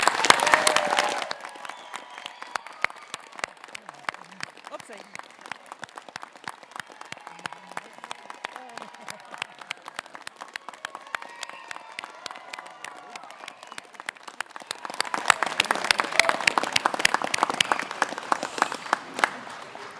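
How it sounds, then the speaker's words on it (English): Audience applause fills a graduation ceremony hall at Massey University, loud at the opening, thinning to scattered clapping through the middle, then swelling again near the end. "Everyone, please join me in a worthy round of applause."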